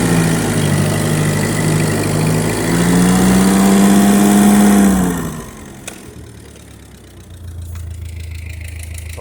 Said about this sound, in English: I'm gonna get her, let her run for a while.